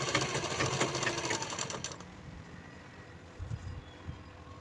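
A sewing machine stitches pleats in fabric for a peplum top, its dense rapid whir running steadily and close for about two seconds before cutting out, leaving quieter room noise and a few soft bumps.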